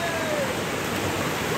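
Clear mountain water rushes steadily through a rocky gorge at Sangshu Creek in Beinan, Taitung, a broad continuous hiss and gurgle filling the scene without pause.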